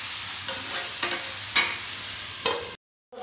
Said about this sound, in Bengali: এখন এইভাবে আমি লেগ পিসগুলো কষে নেব